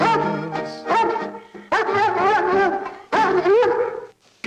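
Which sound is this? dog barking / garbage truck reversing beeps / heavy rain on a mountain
dog barking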